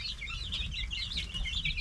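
Guinea fowl on a koi farm keep up a steady, busy chatter of raspy, high-pitched calls, close by and continuous, over a low rumble of background noise.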